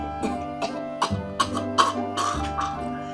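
A series of strained, raspy gasps and coughing bursts made by a voice imitating someone choking, repeated in uneven spurts.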